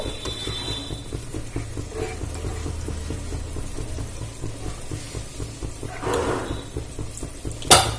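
Water goes into fried masala in a pan for a pomfret fish curry, a soft, steady sizzle and bubbling with light scraping and stirring, swelling briefly near the end before a sharp clack.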